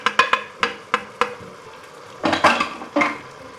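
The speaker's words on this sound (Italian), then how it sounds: "Dopo la seconda volta che abbiamo messo il brodo, aggiungiamo i funghi" Mushrooms stirred into a pot of risotto, a spoon scraping and clacking against the pot in several sharp knocks, then a wetter, thicker churning of rice and broth, close and alone.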